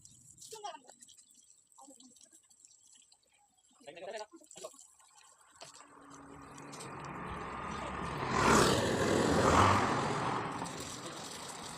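Water roars from the Mampuzha waterfall near Karuvarakundu, on the Manjeri road. The roar swells into a loud, broad, steady rush in the second half, after a quieter opening with brief voices and scattered sounds.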